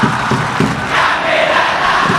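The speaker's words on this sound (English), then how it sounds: "More crowds." A football stadium crowd at an Indonesia national team match sends up a dense, continuous roar, loud and steady throughout with slight swells, its massed voices blending into one wide wall of sound.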